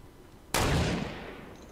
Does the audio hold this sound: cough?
no